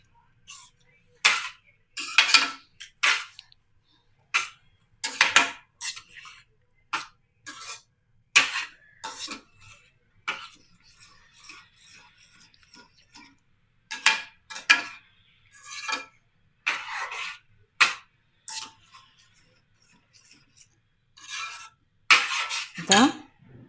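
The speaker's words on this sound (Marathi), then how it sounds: "तर ह्याला चांगलं असं मिक्स करणार मी." A spoon stirs homemade pav bhaji in a pan over low gas, producing a long series of sharp metallic clinks and scrapes in irregular bursts with quiet gaps between, with no talking.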